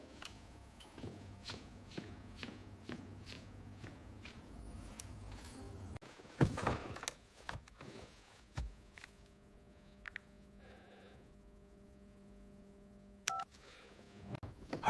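In an anime, a telephone is dialled with a quick run of soft keypad tones and handling clicks, followed by quieter tones and a few sharp taps, faint and close, no talk.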